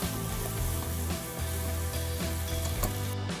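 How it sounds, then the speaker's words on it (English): Masala and spices fry in hot oil, a continuous dense sizzle with faint stirring scrapes underneath, steady and close throughout. "fry the masala well till the oil separates"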